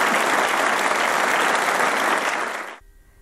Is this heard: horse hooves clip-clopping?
no